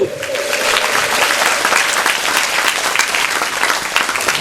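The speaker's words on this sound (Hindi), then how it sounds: "ताली बजाकर धन्यवाद देंगे परमेश्वर को" Steady, dense clapping from a church congregation giving thanks to God, loud and continuous throughout with a brief musical tone at the start.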